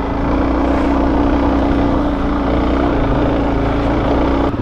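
A Suzuki DRZ400E dirt bike engine drones steadily while climbing a steep Colorado mountain trail, a loud, constant hum heard up close over wind noise, without talk.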